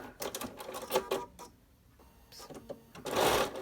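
A home sewing machine stitches cloth face-mask fabric in short close bursts with brief pauses, a last longer run at the end.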